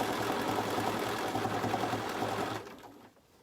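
A sewing machine stitches binding around a quilt corner, a fast steady close-up motor whir and needle patter that runs for a few seconds then stops abruptly, no voices.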